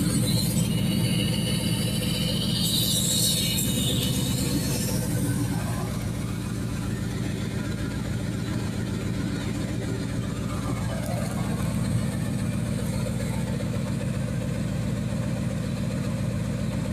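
An ARB twin air compressor inflating a tire runs as a steady, loud mechanical drone with a low rumbling hum, continuous throughout with no pauses.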